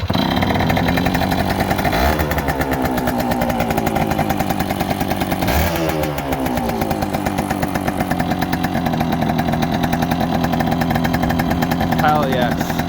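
An old motorbike once owned by a grandfather, kickstarted with the choke on, runs loud and close with a steady buzzing idle and a few revs throughout, with no talk over it.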